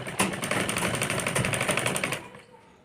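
A sewing machine stitches a kurti top in a rapid, loud, close mechanical chatter for about two seconds, then stops and leaves a faint tail.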